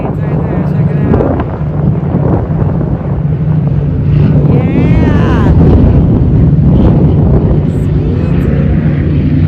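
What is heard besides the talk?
airplanes flying over Lake Havasu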